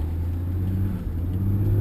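A Mercedes-Benz E320 W210 with traction control spins a wheel, a continuous low engine drone and rumble from inside the car that swells slightly toward the end, with no talking.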